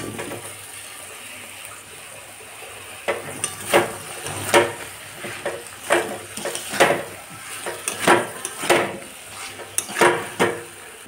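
Potatoes and spice paste with a little water are stirred and sautéed in a kadai. A quiet simmer gives way to repeated, regular spatula scrapes and wet sizzling bursts, close and fairly loud, with no speech.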